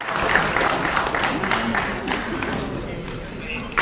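Audience applause for the chief minister at the inauguration of a robotic knee and hip joint replacement centre, a dense steady crowd clapping throughout with some voices mixed in.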